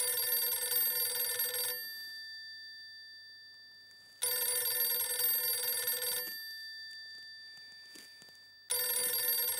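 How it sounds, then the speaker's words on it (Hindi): A telephone rings in a household setting in three loud bursts of electronic ringing separated by quiet pauses, with no talking. "मेहता साहब का फोन है"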